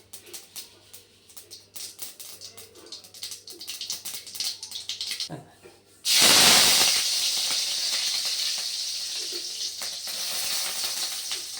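Spices tempering for a curry kuzhambu burst into a loud sizzle partway through, after a stretch of faint clinking, and keep hissing steadily to the end.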